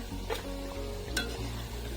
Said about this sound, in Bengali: এভাবে উল্টে পাল্টে পিঠাগুলো ভেজে নিব